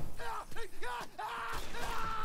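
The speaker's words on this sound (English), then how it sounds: "He's screaming in pain." An enemy in the Mafia 3 video game screams in pain after being hit by a Molotov, giving loud, close, strained yells with a few breaks between cries.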